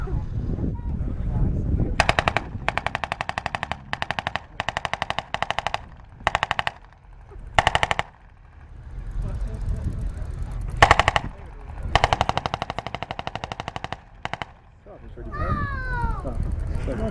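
Repeated bursts of machine-gun fire during a WWII ambush reenactment at the Tankfest show at Bovington Tank Museum, rapid rattling volleys broken by short pauses, outdoors with wind and an announcer talking.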